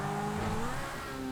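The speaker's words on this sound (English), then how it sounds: "Now this is the race car you got here, which is back from GTA 5" Pegasus race car in GTA 5 revving its engine, a steady loud tonal drone with rising pitch lines across the whole stretch, no voices over it.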